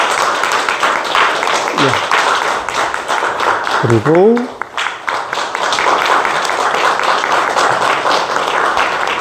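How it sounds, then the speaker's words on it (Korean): Church congregation clapping and applauding during a Sunday worship service, a steady crowd applause running under a voice speaking throughout. "여러분 교회에서 준비한 박수 좀 쳐주세요"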